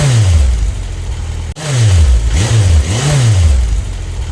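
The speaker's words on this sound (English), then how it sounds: "this bike has a special exhaust system which gives a nice whistling whine" A vintage motorcycle with a special exhaust system revs up and down several times, its engine note rising and falling in a throaty sweep with a whistling whine on top, loud and close.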